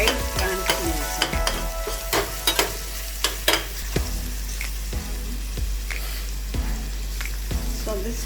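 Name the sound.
onion frying and being stirred in a pan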